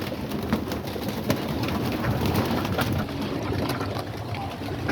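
Homing pigeons and doves coo in an aviary while waiting to be fed, a soft continuous murmur of low calls blended with rustling and patter that fills the whole clip at close range.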